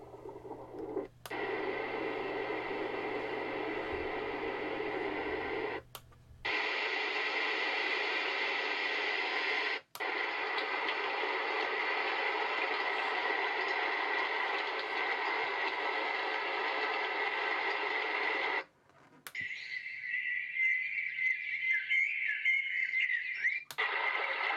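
A Warmhoming white noise machine with a sleep timer plays a steady, loud hiss that shifts between several natural-sound settings, each change marked by a brief drop into silence.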